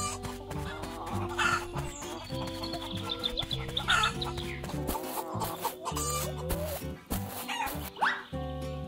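Frightened hens cluck and squawk in agitated bursts over a busy, layered background, the calls rising and falling in quick succession.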